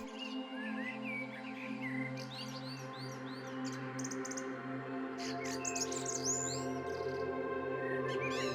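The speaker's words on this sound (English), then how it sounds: "The morning begins with the cheerful sounds of birds singing." Several birds chirp and trill in bursts in the morning in rural Bangladesh, some close and bright, over a soft continuous musical backdrop.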